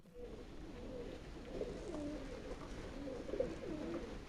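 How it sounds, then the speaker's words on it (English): Pigeons coo repeatedly under the ceiling of an abandoned movie theater's amphitheater, their soft, rolling calls overlapping in a steady, moderately close chorus with no talking. "the whole ceiling is full of pigeons."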